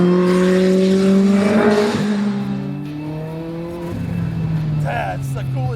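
A Lotus race car engine revs with strong rising and falling harmonic tones, loud and close, with a second rev climbing near the end; people talk over it.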